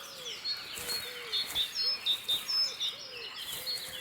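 Cranes at a lake breeding place in Germany, with soft calls and chirps repeating irregularly at a distance over a faint natural background, with no talking.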